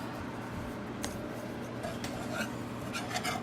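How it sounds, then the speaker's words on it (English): Flour is swirled into melted butter in a pan for a roux, giving a faint, soft scraping and rubbing with a few light utensil taps. "We're going to take the flour and just dump it in the butter and swirl"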